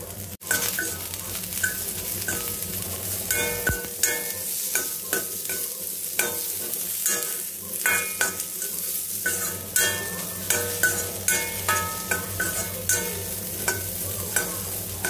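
Sliced onions and radish frying in a pan with turmeric, a steady sizzle under repeated scraping and stirring strokes, close and fairly loud throughout with no talking.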